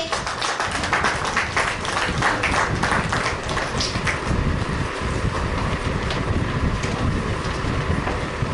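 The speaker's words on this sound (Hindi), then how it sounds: "आप सभी की भी तालियां बजती रहे।" An audience at a Women's Day event applauds in a dense, continuous wash of clapping that stays loud and even for the whole stretch, with no speech over it.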